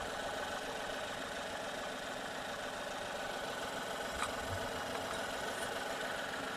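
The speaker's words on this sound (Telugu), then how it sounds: "ఇంజన్ చూడండి, సైలెంట్గా ఉంది." A Renault Kwid RXT's engine idles quietly and evenly, a soft steady hum with a faint mechanical tick, close by and alone, with one brief click partway through.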